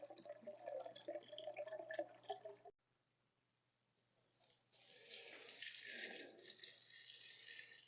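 Aquarium water being poured onto indoor potted palms, a faint, close splashing and trickling that breaks off into near silence before a steadier flow resumes.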